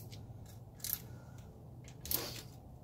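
A wrench tightens bolts evenly in turn, giving two brief, quiet metallic ratcheting bursts about a second apart against a faint background.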